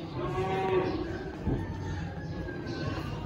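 Cattle moo at a livestock auction: a long, drawn-out low bellow dominates, followed by a second shorter moo, with faint background murmur around the pen.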